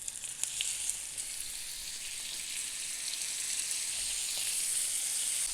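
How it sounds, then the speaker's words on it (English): Chicken breast sears in smoking-hot oil, giving a loud, steady hiss and crackle with scattered pops that holds evenly throughout, with no voices. "it needs to be seared as soon as possible, so no liquid is leaving the chicken breast while searing"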